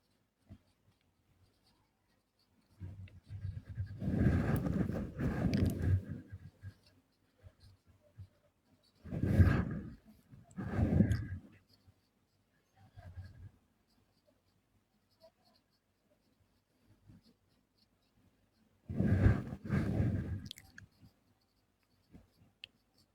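Marker or chalk strokes on a classroom board during a calculus lesson come in separated bursts of scratchy writing with quiet gaps between, fairly close and clear, with no talk over them.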